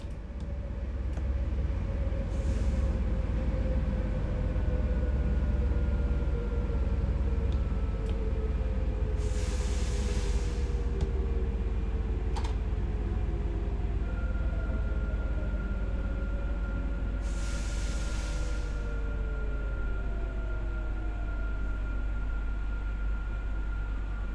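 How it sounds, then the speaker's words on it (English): A train brakes to a stop in Train Sim World 5 on the Zwolle–Groningen line, a steady rumble with drifting whines and a few bursts of air hiss, continuous and fairly loud, with no talk. "Begin applying a small amount of braking force by moving the train brake into the braking range."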